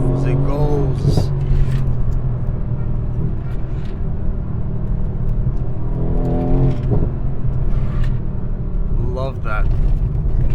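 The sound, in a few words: Mercedes-AMG C63S V8 engine accelerating in race mode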